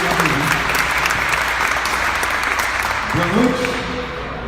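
A church congregation bursts into dense, loud applause that carries steadily before tapering off, while a voice speaks over the clapping.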